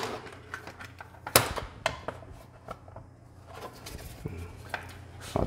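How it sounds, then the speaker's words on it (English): Commodore SX-64 keyboard being reassembled: scattered plastic clicks, taps and snaps of keys and case parts, close and irregular, with soft handling noise between the sharper knocks. "let's get the keyboard back together here."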